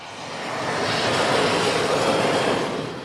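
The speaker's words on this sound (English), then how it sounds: "Dozens of planes take off and land here every day." Aircraft taking off and landing near Beirut International Airport: a loud jet engine roar swelling in and holding steady for a few seconds, then easing slightly, with no talk.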